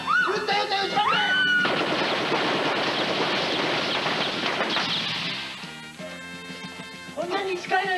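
Rapid machine-gun fire rattles in a loud sustained burst in a Lupin III parody scene. Excited Japanese voices and music are heard before and after the shooting.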